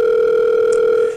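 A steady electronic telephone tone hums loudly and evenly during a phone call, then fades out at the end.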